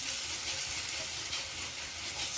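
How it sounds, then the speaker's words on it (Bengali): Onion and green chili frying in oil for a taki fish dish give a close, steady hiss and crackle, loud and unbroken throughout with no voices. "পেঁয়াজ আর কাঁচামরিচটা ভাইজে নিচ্ছি তেল দিয়ে"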